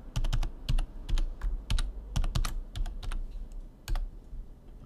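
A password is typed on a computer keyboard in quick, uneven bursts of sharp, close key clicks, with short pauses between runs and no voices.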